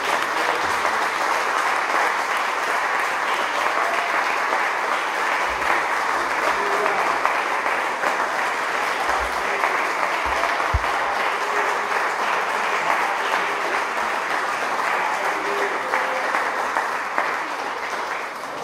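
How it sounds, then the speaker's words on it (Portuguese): Church congregation at a Sunday service applauding, sustained thick clapping from many hands that runs on evenly and loudly for the whole stretch, with a few low thumps underneath. "Você pode aplaudir ao Senhor."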